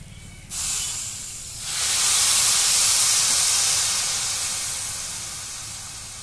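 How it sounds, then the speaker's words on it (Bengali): Water poured into a hot pan of spiced masala rice sets off a loud, sustained hiss of steam that swells after a brief pour and slowly fades while still steaming, heard up close. "এবার চার বাটি জল দিয়ে দেব।"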